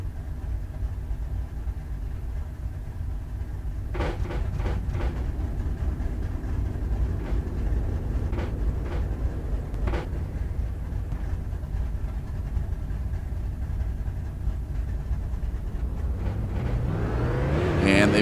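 Street stock race cars pulling off the grid at Charlotte Motor Speedway, a steady mass of engine rumble from the pack with a few sharp revs and rising acceleration toward the end.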